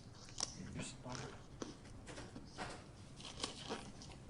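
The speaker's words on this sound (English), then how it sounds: "Scissors." Scissors snip open a sealed evidence package in a courtroom during a criminal trial: a few faint, sharp cutting clicks spread over several seconds, with quiet room murmur behind them.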